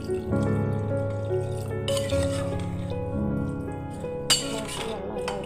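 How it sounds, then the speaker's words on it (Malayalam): A glass of water is poured into a pot of cooking dal khichdi, giving a steady splashing pour with a few clinks and drips against the pot over a continuous kitchen hum. "ഇത് ഞാൻ ഒരു ഗ്ലാസ് വെള്ളം കൂടെ ഒഴിച്ച്"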